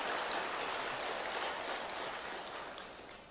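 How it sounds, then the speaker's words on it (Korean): A congregation at a Buddhist temple service in Ilsan claps as a dense, even applause that stays loud at first and then gradually fades out. "한번 박수로 표상적으로 한번 표현해 보세요"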